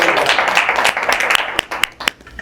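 Audience applause breaks out after a rabbi is introduced at a lecture, a dense patter of many hands that thins toward the end into a few separate, sharper claps.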